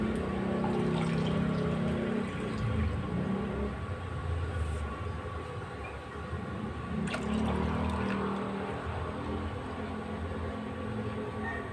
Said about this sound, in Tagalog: 3 tasa lang ilalagay natin na tubig